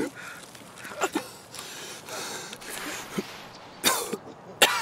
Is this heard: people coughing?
yes